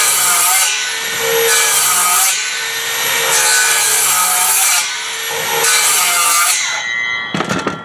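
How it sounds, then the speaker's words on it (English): A circular saw, set just deeper than the strapping thickness, cuts into a wooden shed stud in several loud, close passes with whining blade pulses, ending in a few sharp knocks. "I set my saw just a little deeper than the strapping is thick."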